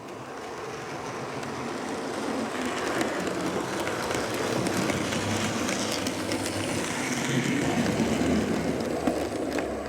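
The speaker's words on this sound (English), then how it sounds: "Let's get our other O2 tank, OCO, and its train out of the station." Model O2 tank train pulling out of a station on a track, a steady continuous rolling rumble with faint rail clatter throughout, close and fairly loud with no pauses.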